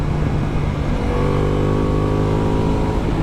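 A Ducati Multistrada V4S drones steadily under load while being ridden fast on open road. The engine is loud and close, with a continuous tone and no voices.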